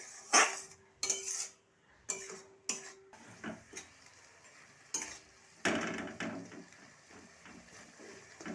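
A spoon scraping and stirring ground prawn head paste in a metal pan, a series of sharp clinks and scrapes in irregular bursts, close and clear with quieter gaps between strokes.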